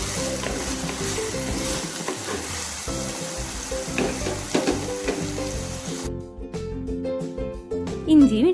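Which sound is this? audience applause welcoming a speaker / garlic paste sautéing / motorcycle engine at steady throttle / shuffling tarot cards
garlic paste sautéing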